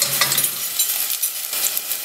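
Garlic is stirred into a hot pan for a creamy, spicy mushroom soup, giving a steady close sizzle with hissing frying noise and light stirring scrapes throughout.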